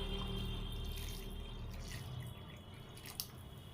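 Water poured into a pot of rice being cooked for biryani, a steady trickling pour heard up close with no talk, fading slightly toward the end.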